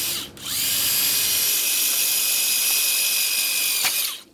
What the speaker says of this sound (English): I like to use a little drill to do a pilot hole